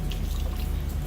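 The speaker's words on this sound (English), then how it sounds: "Still kind of draining off." Rainwater dripping and draining off a carport after heavy rain, a steady low wash of trickling water with no separate drops standing out, close by and continuous.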